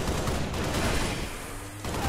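Sustained automatic assault rifle fire from Halo: Reach, a dense continuous burst of rapid shots that is loud and close, easing slightly partway through before picking back up.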